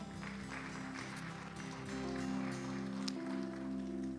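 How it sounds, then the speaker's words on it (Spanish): A church congregation claps for the Lord during a service, steady sustained applause over a low droning hum, mid-distance and moderately loud, with no clear speech. "Denle un fuerte aplauso al Señor"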